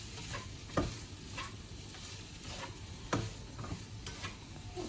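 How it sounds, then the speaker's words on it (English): Ivy gourd frying in a pan and stirred, a low steady sizzle broken by a few sharp scrapes of the utensil at irregular intervals, close but fairly quiet, with no voices. "just stir it up a little bit"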